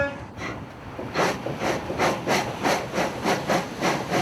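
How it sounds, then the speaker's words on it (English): A steamship's steam engine churns rhythmically, with repeated hissing chuffs at a steady pace of roughly three per second, close and continuous, with mechanical clatter underneath. "We're going after all the mechanical engine sounds for the Venture"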